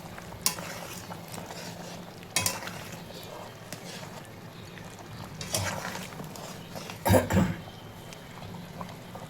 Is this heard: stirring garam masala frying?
yes